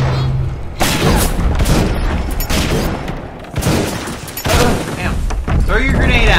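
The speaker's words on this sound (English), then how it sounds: "And it throws grenades!" Grenade explosions in the video game Bioshock, several heavy booms and gunfire bursts in quick succession, loud and close, with a voice talking in between.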